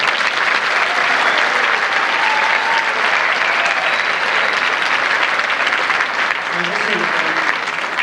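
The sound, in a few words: final applause for award winners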